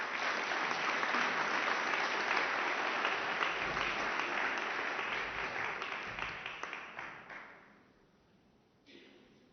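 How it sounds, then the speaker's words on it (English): At a Ukraine Recovery Conference 2024 signing ceremony, an audience gives a full round of clapping that holds strong for several seconds before thinning into scattered claps and trailing off. "I invite the audience for a round of applause on this signature."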